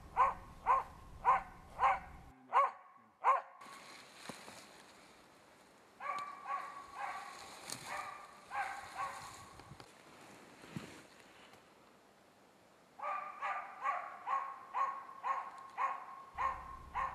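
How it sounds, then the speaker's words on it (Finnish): Bird-hunting dog barking at a dense spruce in the forest, sharp rhythmic barks repeated in quick runs, pausing for several seconds between bouts, heard from moderate distance with a steady hiss of rain or wind in the background. "Tällä kertaa koira haukkuu tiheään kuuseen."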